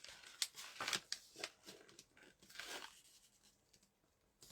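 Scissors snip and trim paper strips for junk journal boho beads, a string of quiet, close crisp cuts and rustles in irregular rhythm, trailing off into near silence at the end.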